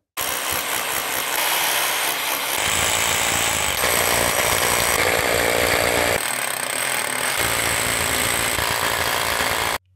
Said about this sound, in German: dann verwende ich so eine einfache Bohrkrone, die man auch für Steckdosen zum Beispiel verwendet